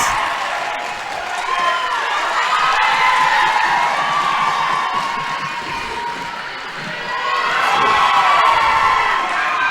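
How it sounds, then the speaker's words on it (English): A roller derby crowd cheers and shouts loudly and continuously, with high excited voices swelling and dipping across the arena and scattered clapping mixed in. "You can hear the crowd's going nuts here."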